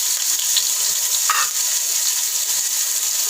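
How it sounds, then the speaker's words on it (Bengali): Grated garlic, ginger and chopped green chili fry in a pan at home, giving a loud, steady, close sizzling hiss with a faint stir scrape, and no talk. "এবার এটা 2-3 মিনিট একটুখানি নেড়ে ফ্রাই করে নিতে হবে।"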